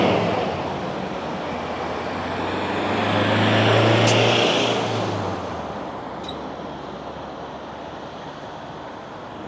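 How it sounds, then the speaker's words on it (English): Ergon trucks pass on a road near Wilson Street in Innisfail, Queensland: a broad, rumbling roar swells to a peak midway and fades, under steady wind noise and with no talk. "Ergon trucks going past to come out of Wilson Street."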